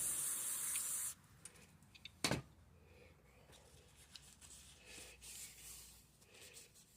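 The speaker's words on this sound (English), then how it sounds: "Spray that off some." A loud burst of aerosol cleaner hisses for about a second onto a plastic Briggs & Stratton 6.25 mower carburetor, then stops, followed by a sharp knock and quieter handling noises.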